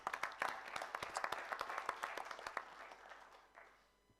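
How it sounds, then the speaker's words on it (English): Audience members at a urology surgery conference applaud in a hall, scattered distinct claps building briefly then fading, heard somewhat distant and fairly quiet. "Could we have applause for him,"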